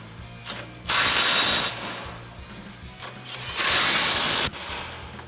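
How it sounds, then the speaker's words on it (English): An 18mm socket ratchet tightens bolts on a replacement front bumper for a 2019-2026 RAM 2500 HD, heard as two loud bursts of rapid, close-up ratcheting clicks separated by a quieter pause. "Now we're going to tighten down our 2 18mm bolts with our 18mm socket and 18mm wrench."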